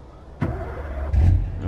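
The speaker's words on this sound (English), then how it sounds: "Okay, start the engine." A truck engine cranks and catches in Euro Truck Simulator 2, with two short starter bursts followed by a low, steady idle rumble, close and moderately loud.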